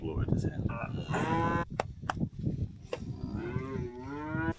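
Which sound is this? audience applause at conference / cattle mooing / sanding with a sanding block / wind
cattle mooing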